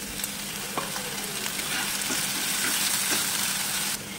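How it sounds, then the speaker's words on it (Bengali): Ginger-garlic rinse water poured into sizzling masala for egg biryani, a continuous close hiss that swells midway with light stirring scrapes, no voices. "আদা রসুন বাটা যে পানিটা ধুয়ে রাখা সেটা দিয়ে দেবো"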